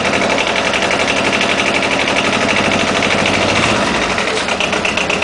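An Arctic Cat ATV engine revving steadily on rollers while the rear differential is engaged, a loud, continuous buzzing drone that holds for the whole stretch with a slight change in tone near the end.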